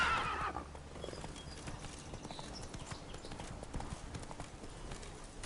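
Roach the horse from a video game gallops in steady clip-clop hoofbeats, with a brief whinny near the start, moderately loud and continuous.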